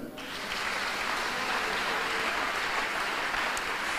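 A church congregation applauds during a French-language sermon, steady sustained clapping that swells in after a brief moment and holds loud and dense throughout.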